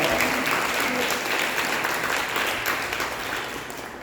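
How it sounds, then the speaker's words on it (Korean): Church congregation claps together in celebration, a dense, even wash of applause that holds steady and then gradually fades toward the end. "우리 한번 박수로 다시 한번 축하하겠습니다."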